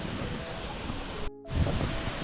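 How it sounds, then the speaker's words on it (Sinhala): The Aberdeen waterfall in Sri Lanka roars as a dense, steady rush of falling water filling the whole clip, broken only by a brief dropout near the middle. "වතුර වැටෙන ලස්සනට සුපිරියම කියල්ලක්"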